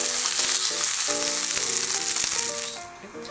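Fish fillets sizzle steadily in a frying pan, a loud, continuous crackling hiss that runs for a few seconds over soft background music before tapering off near the end.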